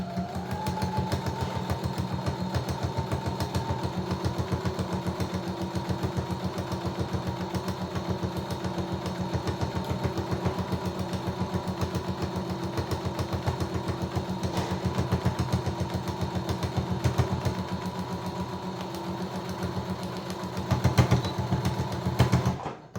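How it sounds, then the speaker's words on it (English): A sewing machine runs steadily while stitching a dog bandana, its motor humming with a rapid, even needle rhythm that continues close and moderately loud with no talk, wavering briefly near the end. "Okay, so I'm just going to continue to stitch this. This is my last row of stitching now."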